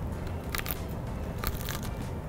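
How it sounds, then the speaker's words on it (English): Teeth bite into a crispy gochujang-glazed fried chicken wing, giving two close bursts of sharp crunching over low background hum, with no speech. "Listen to that crunch."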